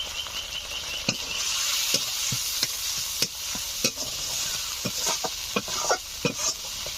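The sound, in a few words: masala with salt and turmeric being stirred and fried in pan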